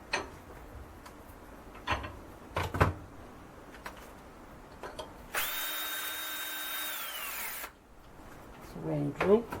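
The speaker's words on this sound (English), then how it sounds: "Just got to drill these out to clearance on the 3" A power drill whirs in a short, steady burst of about two seconds, drilling holes in metal for a Gingery mill transmission, surrounded by clicks and knocks of handling tools nearby.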